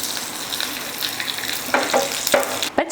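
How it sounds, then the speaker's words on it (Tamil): Mustard seeds and curry leaves sizzle and crackle in a ladle of hot oil, tempering coconut chutney for banana bajji; a steady close frying hiss carries a few sharper pops near the end. "சட்னி தாளிக்கிறதுக்கு ஒரு கரண்டி வச்சு எண்ணெய் ஊற்றிக்கலாம். எண்ணெய் காஞ்சதுமே கடுகு,"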